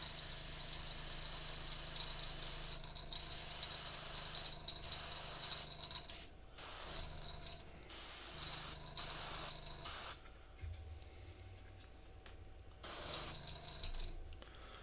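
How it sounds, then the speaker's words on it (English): An airbrush spraying paint onto a Slaanesh daemon prince miniature, a faint, close, steady hiss that cuts in and out in repeated bursts of a few seconds each, with soft mechanical clicks between passes. "this is the airbrush step"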